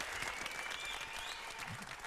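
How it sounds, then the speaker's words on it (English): An audience applauds with steady, dense clapping, heard at a distance and fairly faint, with some faint voices underneath. "Give this man a round of applause."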